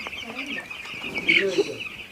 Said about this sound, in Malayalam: ഇതൊക്കെയാണ് കോഴിക്കുഞ്ഞുങ്ങൾ